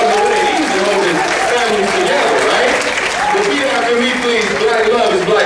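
Audience applause at the opening of the 21st Missouri Institute on Minority Aging after a call to celebrate a fourth wedding anniversary, steady dense clapping throughout with crowd voices and talking mixed in.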